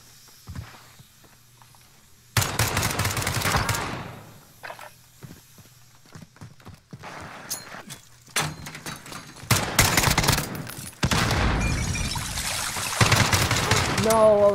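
Gunfire from an SKS sniper rifle in Call of Duty: Modern Warfare, several loud broadband bursts of shots separated by quieter gaps, with the player talking in between.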